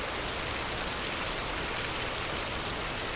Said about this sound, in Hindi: ये देखें माशाल्लाह काफ़ी तेज़ हो गई है अभी बारिश